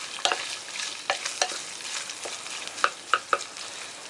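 Meat sizzles in a pan for Korean miso soup while a utensil stirs it, a soft continuous frying hiss broken by scattered scraping clicks, close and fairly quiet with no talking.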